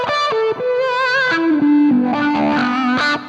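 Electric guitar played through a pedalboard with a pedal set before a saturated distortion effect, giving a thick, sustained, harmonically rich tone as chords and single notes ring out loudly and continuously, with no talking.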